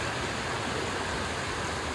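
A constant, dense roar of rushing water from strong waves near a bridge in Bailen, Cavite, broad and steady like a torrent, with no voices.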